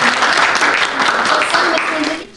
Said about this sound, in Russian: громкие аплодисменты своих коллег